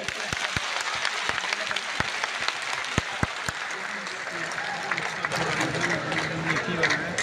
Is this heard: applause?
yes